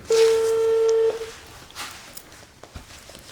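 A mobile phone sounds one steady electronic ringing tone for about a second during an outgoing call, followed by a quiet room with faint soft knocks and movement.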